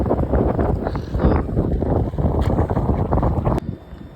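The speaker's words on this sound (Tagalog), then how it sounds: "Grabe lakas ng hangin" Strong wind buffets and roars across the microphone in heavy, gusty bursts during a motorcycle ride, with an engine-like rumble beneath, cutting off abruptly near the end.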